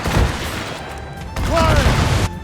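Ship cannon broadside in Assassin's Creed Rogue: a loud, dense volley of booms rumbles over roughly two seconds, close and heavy, with shouting voices mixed in.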